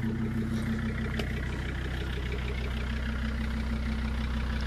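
A Jeep Grand Cherokee 2.7 engine idles steadily with a straight-through exhaust, giving a loud, continuous low rumble with an even throb that holds unchanged throughout.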